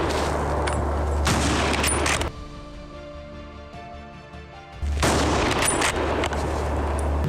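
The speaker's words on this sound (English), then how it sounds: "A well-placed shot can stop the animal and prevent further destruction to crops." Loud bursts of rapid gunfire during a wild boar hunt in the Texas grasslands, two long volleys of shots separated by a quieter gap with a faint hum, close and harsh.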